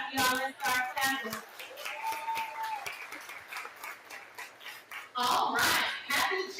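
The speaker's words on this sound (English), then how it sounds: "Let's start clapping, y'all." Audience clapping at a Juneteenth parade opening ceremony, scattered applause mixed with a speaker's voice over a PA and crowd chatter, moderately near.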